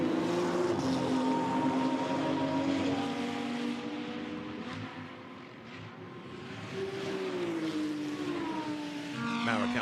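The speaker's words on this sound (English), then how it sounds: "Mauro Casadei then in the Lamborghini howls his way down towards turn 8" A Lamborghini racing in the GT2 European Series at Misano howls with a loud, high engine note that rises through the gears, dips briefly on a lift, then climbs again, close and continuous.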